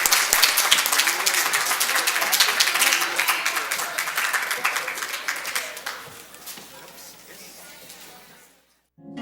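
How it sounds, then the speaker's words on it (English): Audience applause for spelling bee contestants at an evening competition, a dense sustained burst of many hands clapping that gradually thins and fades out near the end, with no talk over it. "how about another big round of applause for all of our contestants tonight?"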